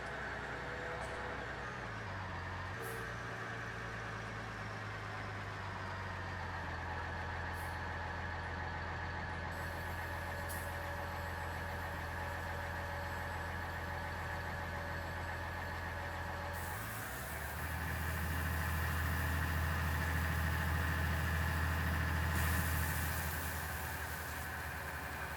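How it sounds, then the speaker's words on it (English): A truck engine in Farming Simulator 19 idles with a steady low drone, then revs louder and heavier as it pulls away, with a faint beeping tone. "Okay, off to offload the truck."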